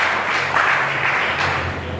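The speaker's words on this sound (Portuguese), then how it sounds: "Você pode dar uma salva de palmas para Jesus?" A church congregation gives a brief, dense burst of applause, a steady roar of many hands that stays level for a couple of seconds.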